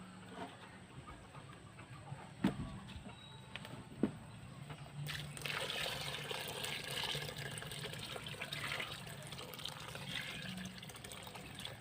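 Water is poured into a container for homemade liquid fertilizer, a steady splashing fill that starts partway through and continues, with chickens clucking faintly in the background outdoors.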